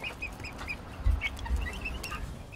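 Backyard chickens clucking while being fed salad and corn, with several short clucks and soft calls scattered through the clip, close and moderately loud over a low background rumble.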